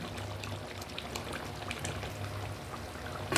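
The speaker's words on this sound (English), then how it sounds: "Now it's time to put in tomato puree." Tomato puree pours into a cooking pot with a faint, soft, continuous wet splatter and bubbling, quiet and steady for a few seconds.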